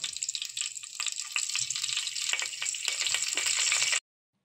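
Cumin and mustard seeds fry in hot oil with a bright, dense crackling sizzle full of rapid pops, close and steady, ending abruptly into silence.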